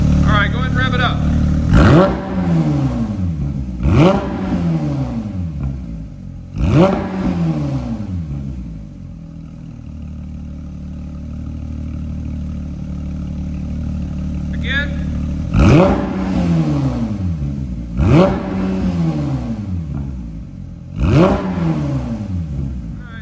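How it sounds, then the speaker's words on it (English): A Porsche 992 GT3 with a JCR exhaust, warm at idle, is revved repeatedly in sharp rising and falling blips, three in quick succession, a pause at steady idle, then three more, loud and close. "All right, go ahead and rev it up."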